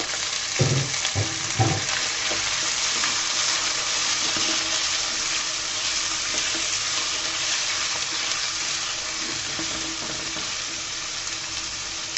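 Bone-in broiler chicken pieces fry in hot oil with a steady, even sizzle. A few soft knocks come early, and the hiss then continues evenly throughout.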